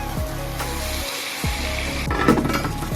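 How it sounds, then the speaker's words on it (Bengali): Spice paste frying in oil in a pan until the oil separates, for a small prawn kofta dish, a close steady sizzle with a few metallic utensil clinks and stirring scrapes. "মশলাটা সুন্দর কষে গেছে তেল ছেড়ে গেছে"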